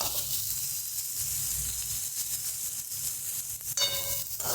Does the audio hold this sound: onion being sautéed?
yes